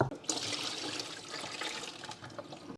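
Rice gets a final rinse, with water sloshing and trickling close by in a continuous wet swish, fairly quiet and with no talking.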